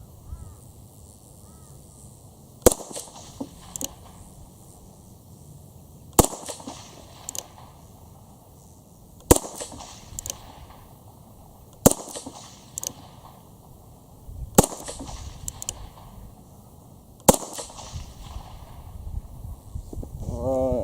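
Six sharp, loud gunshots from an Alfa Proj carbine fired single action at a bench rest, spaced a few seconds apart with quiet outdoor ambience between each crack.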